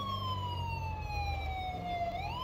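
Police car siren in GTA V with the LSPDFR mod, a loud continuous wail sweeping slowly downward then rising again, over a low engine rumble.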